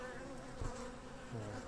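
Honeybees in a winter beehive give a dense, steady close buzz, with a few individual bees droning louder as they pass near.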